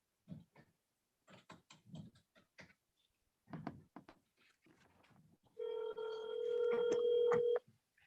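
A cell phone call being placed into a Zoom court hearing: a few scattered clicks and dialing blips, then a steady electronic ringing tone that holds for about two seconds, clear and close with no talk.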